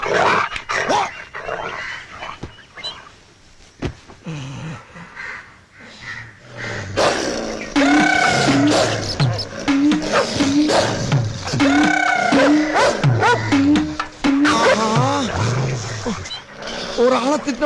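A dog barks in a rapid series of sharp, close barks that start partway through and keep coming in a steady rhythm, while someone talks loudly over and around them.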